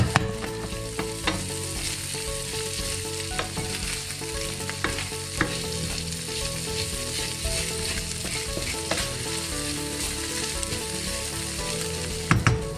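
Beef pieces frying in a pan for beef stroganoff, a loud, steady sizzle with crackling pops and occasional stirring scrapes, no talk.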